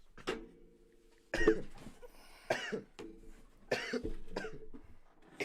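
A person coughs several times in a row, harsh, raspy bursts spaced about a second apart, close to the listener with quiet gaps between.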